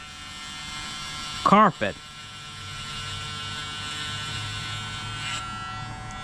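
A hair clipper fitted with an uncoated vapor blade and a pin drive runs steadily at high speed, a close, even electric buzz that holds throughout, with a few brief spoken words near the start.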